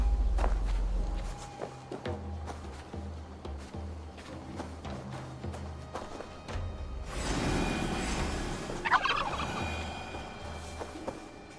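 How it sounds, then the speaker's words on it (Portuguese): A turkey gobbles inside the Viking-era world of Assassin's Creed Valhalla, repeated calls over game footsteps and ambient noise, with a busier, louder stretch of rustling and movement in the second half. "Venha, peru."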